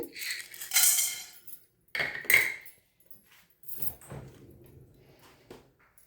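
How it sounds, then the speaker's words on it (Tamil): Cumin and black pepper dry-roast in a pan for sesame balls, with a spoon clinking and scraping against the metal in short, loud bursts broken by brief pauses. "நான் சீரகத்தை மிளகையும் வறுத்தெடுக்க போகிறேன்"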